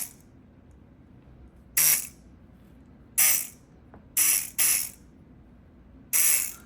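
A Multipick Artemis electric pick gun runs with no pick fitted, giving five short, loud buzzing bursts separated by quiet pauses, each a rattling mechanical whir like an electric toothbrush.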